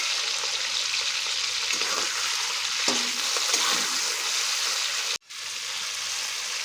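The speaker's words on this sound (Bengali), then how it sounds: "এবার এই তেলের মধ্যে আমরা চিংড়ি মাছটাকে ভেজে নেব।" Shrimp coated in salt and turmeric fry in hot oil, a continuous close crackling sizzle with a faint stirring scrape, broken by a very brief cut before the sizzle resumes.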